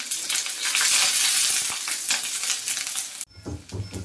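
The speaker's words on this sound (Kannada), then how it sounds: "ಒಂದು ಸಣ್ಣ ಈರುಳ್ಳಿ ಕಟ್ ಮಾಡಿಟ್ಕೊಂಡಿದ್ದೀನಿ. ಇದನ್ನು ಫ್ರೈ ಮಾಡಬೇಕು." A small chopped onion fries in about three spoons of oil, a loud close sizzle with stirring scrapes that stops abruptly after about three seconds, leaving quieter low background noise.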